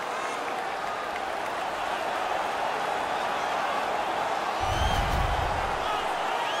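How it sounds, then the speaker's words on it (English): Arena crowd noise from NHL 17 hockey fills the space as a dense, continuous roar of cheering and applause, with a low thump near the end and faint commentary voices underneath. "The crowd is all over them right now."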